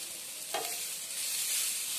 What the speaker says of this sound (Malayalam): ഇനി നമുക്ക് ഇതിലേക്ക് കുറച്ച് കറിവേപ്പിലയും ഇട്ട് കൊടുക്കാം